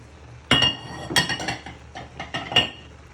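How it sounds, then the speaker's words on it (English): A utensil stirs parsley through a pan, giving a few sharp metallic clinks and scrapes against the pan in separate bursts, close and fairly loud, with no talking. "give that a little stir in so all the flavours from the parsley can start to cook"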